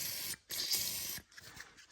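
Short aerosol spray bursts on a fastener of a 2005 Ford Focus ZX4 ST during a fuel canister fix, two hissing blasts separated by brief pauses, with a faint trailing spurt and no talking.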